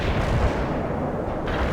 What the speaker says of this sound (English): Strike mission received. Cluster bombs are armed.